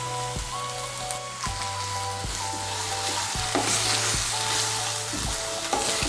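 Masala with chopped tomato stirred and fried in a pan for a Bengali potoler borar jhol: steady loud sizzling with repeated scrapes and knocks of the spoon against the pan, alone without talk.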